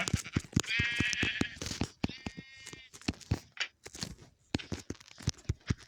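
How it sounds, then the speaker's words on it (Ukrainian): Repeated sheep bleats from Minecraft, thin and slightly synthetic, sound over a patter of quick footsteps and small game-like effects. "Вівця!"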